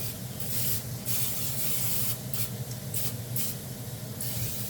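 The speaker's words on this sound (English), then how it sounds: "I'm going to go ahead and line our pans with a little olive oil spray." A steady, close hiss of olive oil cooking spray onto pans, pulsing in short bursts with brief pauses between them.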